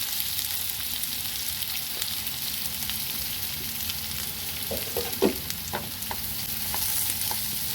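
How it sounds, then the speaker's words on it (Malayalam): Onions frying in oil with cumin for rajma curry, a steady close sizzle with occasional spatula scrapes and taps midway. "ഇതിലേക്ക് ജീരകം ഇട്ട് ഇനി ചെറിയ ഉള്ളി ചെറിയ ഉള്ളി അല്ല സവാള ഇതിലേക്ക് നമുക്ക് സവാള ഇടാം"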